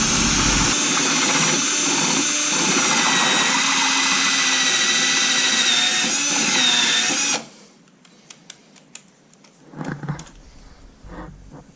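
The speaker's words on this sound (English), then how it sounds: "I got a bigger drill bit" Power drill fitted with a larger bit boring through material, a loud, continuous high whine held for about seven seconds before cutting off, followed by faint handling clicks and rustling nearby.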